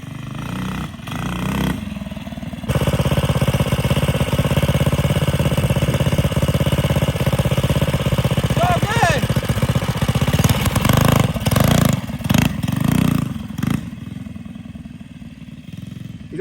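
A 2005 Baja Warrior mini bike built for off-road drag racing, fitted with a big cam, runs loud and close with steady engine drone and revving throughout, briefly easing off near the end.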